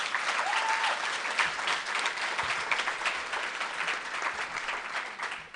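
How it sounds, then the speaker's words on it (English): An audience at a state FFA convention session applauds steadily, a dense sustained clapping from a large crowd throughout, fairly distant and even in level. "So yeah, I would say clap to that."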